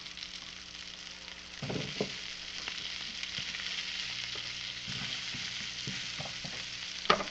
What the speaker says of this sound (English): Just a little bit of olive oil. Put your Brussels sprouts in.